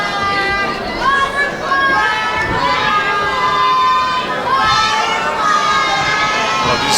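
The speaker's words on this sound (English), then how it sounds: "The crowd is chanting at Brandon Nash, butterfly" Wrestling arena crowd chanting at a wrestler named Brandon Nash, a loud steady roar of many voices with rising and falling shouts throughout.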